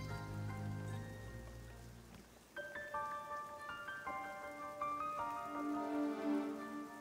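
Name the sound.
rain-like sound in the video game Shenmue 3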